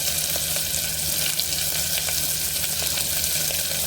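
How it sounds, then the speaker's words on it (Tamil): Chopped large onions with a pinch of salt sauté in a pan for a macaroni dish, giving off a steady, close sizzle and crackle with faint stirring noises. "வெங்காயத்தை நல்லா வதக்கிக்கலாம்."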